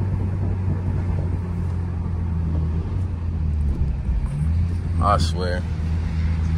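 A BMW G80 M3 with a custom exhaust rumbles steadily with a deep, low drone while driving, heard from inside the car under a voice.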